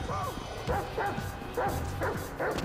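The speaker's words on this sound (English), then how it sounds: "it's a freaking dog" Chop the dog barking in Grand Theft Auto V, a run of four or five sharp game barks and yips in quick succession, fairly close and clear.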